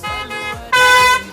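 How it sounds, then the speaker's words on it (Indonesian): Car horns honk on a busy road in India, a few short blasts followed by one longer, louder blare, close by amid traffic. "Bentar-bentar klakson bunyi."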